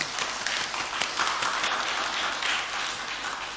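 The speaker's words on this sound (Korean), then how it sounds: "우리 박수로 환영해 주시기 바랍니다" A church congregation applauds to welcome a visitor during Sunday worship, a dense, even wash of many clapping hands filling the room for several seconds without pause.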